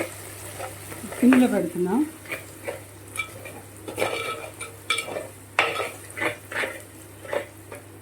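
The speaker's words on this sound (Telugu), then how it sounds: "ఇది బాగా వేగాలి. అల్లం వెల్లుల్లి పేస్ట్ పచ్చివాసన పోయే వరకు." Ginger-garlic paste for tomato pulao fries in a pan while a spoon stirs it, giving rhythmic scraping and clinking over a moderate sizzle, with a voice speaking briefly.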